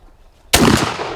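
A shotgun fires a turkey load at a target 40 yards out, a single sharp loud blast close by after near silence, followed by a brief ringing decay.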